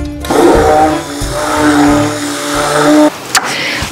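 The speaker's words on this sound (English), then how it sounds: "Immersion blender up and down all throughout the bucket to make a smooth, pourable liquid." An immersion blender whirs loudly inside a bucket of homemade liquid laundry detergent, a close steady motor drone that shifts pitch as it moves through the liquid, then cuts off briefly near the end.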